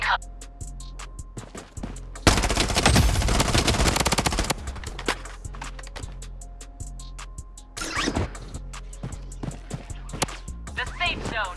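Rapid bursts of automatic gunfire in the Blood Strike shooter game, a dense sustained volley early on and then scattered sharp single shots and short bursts, with in-game voice lines at times.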